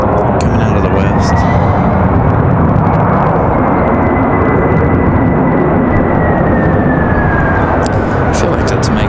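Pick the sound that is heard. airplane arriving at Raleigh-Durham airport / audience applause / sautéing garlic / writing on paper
airplane arriving at Raleigh-Durham airport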